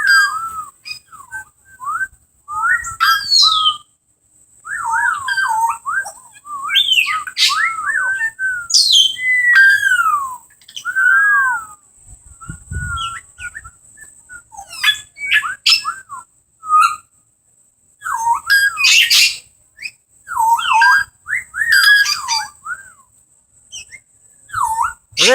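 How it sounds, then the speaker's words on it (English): An African grey parrot and a Lady Ross's turaco call at a zoo, trading loud, close whistles, slurred chirps and warbling phrases in bursts with short pauses. "The African gray parrot and the Lady Ruckus Turako"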